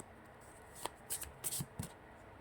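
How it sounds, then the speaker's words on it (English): Tarot cards being shuffled and drawn by hand, with soft brief riffles and a few light taps and snaps, faint and close with quiet room background. "I'm pulling out 3 tarot cards for each group"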